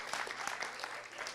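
Faint, brief clapping from a seated audience at a talk, a short scattered burst of hands heard at a distance, quiet and thin, with no voice over it.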